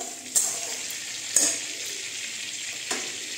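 Oil and butter sizzle in a hot pan ahead of frying garlic chicken, a steady close hiss broken by three sharp crackling pops, with no voices.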